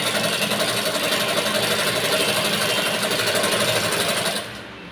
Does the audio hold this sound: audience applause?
no